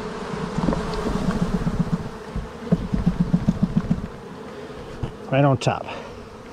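Honey bees from a swarm trap buzz loudly as they are dumped into a 10-frame hive, a dense steady hum with tapping thuds on the box and a brief spoken remark near the end.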